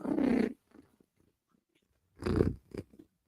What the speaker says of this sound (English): Because if Cat is purring